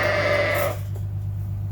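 Ewes on a sheep farm bleating loudly and repeatedly as they run up to their lambs, a strong chorus for the first half second that then drops to quieter farm ambience over a steady low hum.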